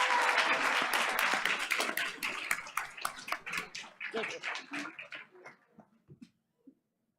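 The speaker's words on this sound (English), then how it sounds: "And audience, let's keep that applause going." Audience applause for a student at a school board of education meeting, steady clapping that gradually thins into scattered individual claps and dies away, with some voices mixed in.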